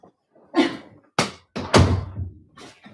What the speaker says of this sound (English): that's my closet door